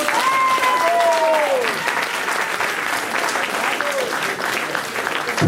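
Sustained, dense audience clapping fills the room at an evening charity gathering of an association fighting sickle-cell disease, steady throughout with a voice briefly rising over it near the start.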